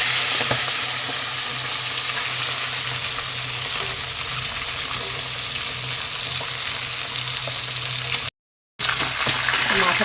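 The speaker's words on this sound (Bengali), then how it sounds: "দেখো বন্ধুরা মাথাগুলিকে উল্টে পাল্টে একটু ভালো করে ভেজে নেবো" Katla fish heads fry in hot oil in a pan and are turned over, making a loud, continuous close-up sizzle with spatters and scraping that breaks off for a moment before resuming.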